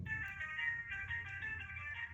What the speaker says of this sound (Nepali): र फोन आइरहेको छ, फोन गइरहेको छ अहिले है।